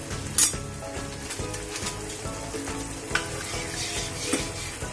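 Lentils tipped into a pan of cooked spinach hiss and sizzle steadily, with a sharp crackle as they hit the hot pan and a few light clinks of a spoon or spatula stirring through the sound.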